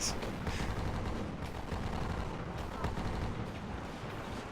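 Sniper gunfire in a World War II-style shooter video game set around Manila, a dense continuous barrage of shots and battle noise throughout, loud and busy with faint speech underneath.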